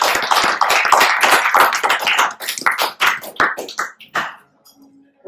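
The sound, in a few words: audience applause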